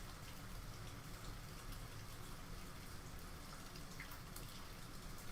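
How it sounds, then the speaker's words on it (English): Steady, intense rain falls continuously at an even, moderately loud level, forming a dense wash of drops with no pauses and no voices. "it is raining pretty intensely."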